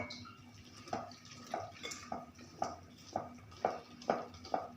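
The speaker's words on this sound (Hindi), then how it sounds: "देखें अब मैं इसके अंदर फिर डालूँगी पानी थोड़ा थोड़ा सा" Water is added a little at a time into gram flour batter for eggplant pakoras, making a steady run of small drips and splashes in an even rhythm, close and fairly quiet, with no talking.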